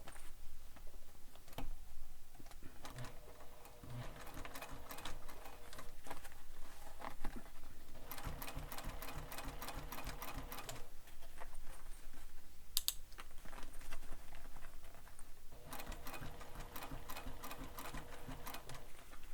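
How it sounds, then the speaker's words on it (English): A sewing machine top stitches all the way around a sling pack, running in steady bursts with brief pauses between them, close and alone. "we're going to top stitch this all the way around, and I'm starting at the bottom here."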